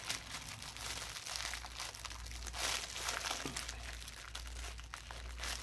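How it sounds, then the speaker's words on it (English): Close-up crinkling and crumpling of a thin plastic bag being torn open, with rustles and small tearing sounds coming in irregular bursts over a low background hum. "Let me open one up to show you little bags."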